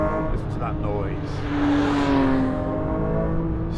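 A Porsche 911 GT3 992.2 Touring engine pulls at part throttle in third gear, a steady, loud rising drone with a harmonic whine climbing in pitch, heard from inside the car.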